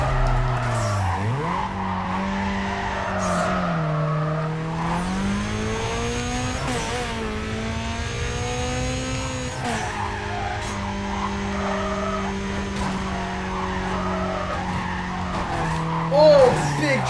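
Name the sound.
racing cars skidding in video game Need For Speed Carbon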